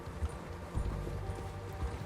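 Horse hooves clip-clopping during a ride in the video game Red Dead Redemption 2, a quick uneven patter of hoofbeats over low ambient game sound, with no talk.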